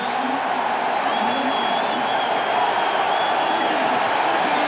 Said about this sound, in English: And the crowd cheering Jim Miller's return